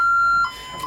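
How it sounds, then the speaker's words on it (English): A home security alarm sounds after a door without an entry time delay is opened, a steady high electronic beep tone that cuts off partway, followed by a quieter, fainter tone. "I just set the alarm off because this door doesn't have a time delay on it"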